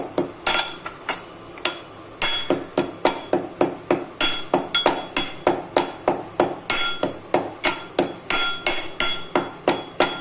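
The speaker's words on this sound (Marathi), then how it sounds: "आता थोडी कुटून घ्यायची वेलची." Cardamom pods are pounded in a steady series of sharp, hard knocks, roughly three per second, close and fairly loud with brief pauses early on and no speech.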